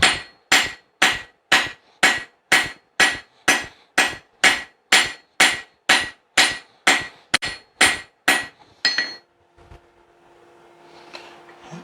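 Steady, evenly spaced hammer blows ring out on a hot steel bar being forged into a tapered tomahawk drift, about twenty loud metallic strikes in a row, then a quieter scrape and settling noise.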